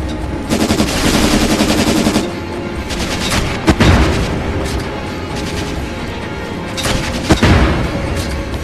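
Sustained automatic gunfire in Syphon Filter: Logan's Shadow, with loud, dense, rapid bursts cracking over a rumbling wash of battle noise and occasional heavier booming shots.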